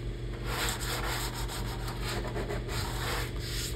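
Sander working on an arcade cabinet, knocking down a sharp wooden edge at an angle with 80 grit, a steady close abrasive whir with rhythmic rubbing pulses under a constant motor hum, no talking.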